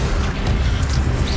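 A short, loud whooshing boom of the Accio summoning spell in the Hogwarts Legacy video game, a thick rumbling burst lasting just over a second.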